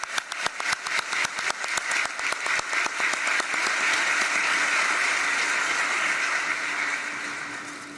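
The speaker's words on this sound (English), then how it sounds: "Let's applaud the people of this territory." An audience applauds at the COP29 climate summit for small island developing states. Clapping begins as sharp, separate claps, swells into a dense, sustained ovation, then slowly tapers off.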